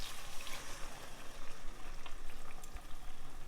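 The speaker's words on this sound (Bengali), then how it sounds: "এর মধ্যে সিদ্ধ করা পুঁই মিচুরিগুলো দিয়ে দেব।" Boiled Malabar spinach stems drop into oil and spices for a small-fish curry, giving a quiet bubbling sizzle with soft crackles and a few stirring knocks, close but faint.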